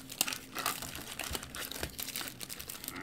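Close, crisp crinkling and rustling of foil trading card packs from a 2022 Topps Stadium Club Chrome hobby box being shuffled by hand, a quiet, irregular series of crackles with no talking.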